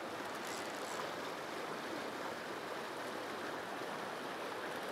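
Steady, broad rushing of a fast-flowing river where fish are caught, constant and fairly close with no pauses.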